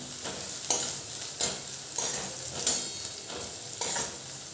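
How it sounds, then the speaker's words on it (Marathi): Onion tempering fries in a pan over a low-to-medium gas flame, a soft crackling sizzle broken by periodic scraping stirs about every half second, close and fairly quiet with no talking. "गॅसची फ्लेम लो ठेवायची मीडियममध्ये जेणेकरून करपणार नाही आपली फोडणी"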